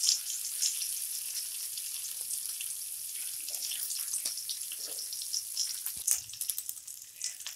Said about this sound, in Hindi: अब जो तेल बची है उसी में हम एक चम्मच और तेल डाल देंगे और उसमें हम फोरन डालेंगे